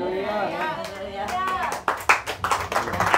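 A church congregation at a Sunday service breaks into scattered hand claps after a stretch of talk, the claps coming in the second half as loud, uneven bursts, with voices still audible beneath them.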